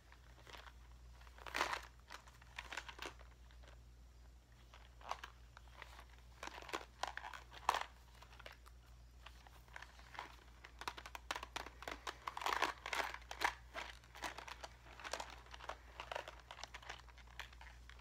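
Crinkling and crackling of a heavily taped mystery package, irregular handled bursts at close range with a steady low hum underneath, no voices.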